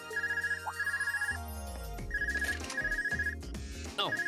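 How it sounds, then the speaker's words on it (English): A phone rings in the video game Trails of Cold Steel: two bursts of bright, trilling electronic ring pulses, each repeating rapidly, with soft game music and effects underneath and between them. "Looks like I've got a call coming in."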